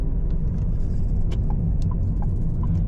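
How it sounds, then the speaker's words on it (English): Steady road noise and low engine rumble from a 2025 Changan Eado driving through Sharafiyah city streets in Riyadh, continuous and close with brief higher ticks passing by. "we are driving a Changan Eado 2025"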